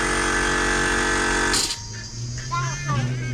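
A sander grinds on a boat's propeller shaft with a loud, steady buzzing whine that cuts off abruptly partway through, after which people talk nearby.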